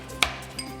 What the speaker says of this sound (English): I'm just going to slice my pimento.